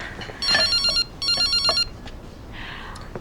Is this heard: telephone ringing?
yes